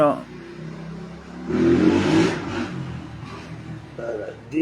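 A motorcycle engine revs up and accelerates in a medium-pitched surge that swells for a couple of seconds then fades, heard at moderate distance over background noise.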